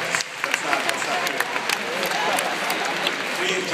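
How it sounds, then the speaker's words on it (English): An audience applauds during a speech by an author: a continuous, fairly loud sheet of clapping with scattered crisp claps and faint crowd noise. "you're applauding theft"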